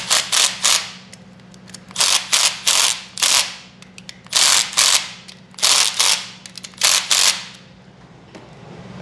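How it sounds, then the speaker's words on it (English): Bolts being tightened on the timing chain of a 392 HEMI engine with a ratchet, heard as repeated bursts of quick, loud clicking in short groups separated by pauses, close up with no talk. "I'm going to tighten these bolts down."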